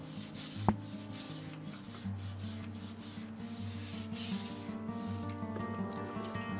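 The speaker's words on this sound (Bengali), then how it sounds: "জাস্ট একটু ভিম লিকুইড দিয়ে কোনাগুলোকে এই ব্রাশের সাহায্যে ঘষে নিলে খুব সুন্দর পরিষ্কার হয়ে যায়।" A brush scrubs kitchen corners with Vim liquid in a dense, continuous close rasping, steady and loud, opening with one sharp knock.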